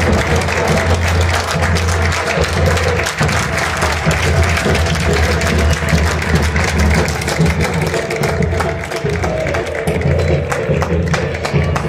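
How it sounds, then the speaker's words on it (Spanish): Stadium crowd at an Argentine Torneo Federal A football match between Linqueño and Sportivo applauding a substituted player, a broad, continuous roar of clapping and crowd noise over a low rumbling hum, with no clear speech on top. "Aplausos para el 7"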